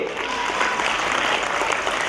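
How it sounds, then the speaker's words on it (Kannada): Audience at a school annual day celebration claps steadily, a dense, even burst of applause filling the whole short moment without pause. "ನಿಮ್ಮೆಲ್ಲರಿಗೂ ಒಂದು ಜೋರಾದ ಚಪ್ಪಾಳೆ, ಇಲ್ಲಿ ಚಪ್ಪಾಳೆ ಬರಲಿ."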